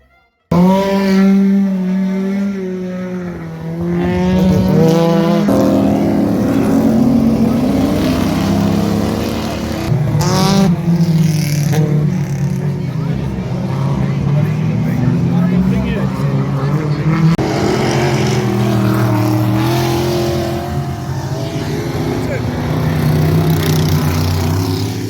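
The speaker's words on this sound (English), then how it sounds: "That is, until the stock cars." Loud, roaring engines of stock cars racing, droning and revving continuously, with pitch rising and falling as they circle, and voices underneath.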